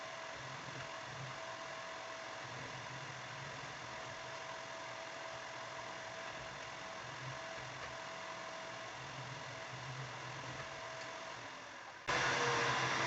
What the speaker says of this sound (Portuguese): eu vou passar uma costura de pé de máquina nessas minhas duas laterais aqui